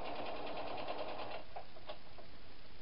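A sewing machine stitches a fabric Christmas stocking, its fast steady whir running close and clear for about a second and a half before stopping, followed by a few faint taps.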